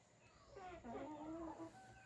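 A rooster gives a short, quiet crow, faint and somewhat distant, with no talking.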